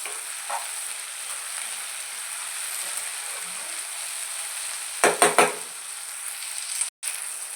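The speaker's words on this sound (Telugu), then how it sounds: "టమాటాలు బాగా వేగాలండి" Tomatoes frying in a pan with onions make a soft, continuous sizzle, then a quick cluster of three or four scraping stirs near the end followed by a brief cutoff.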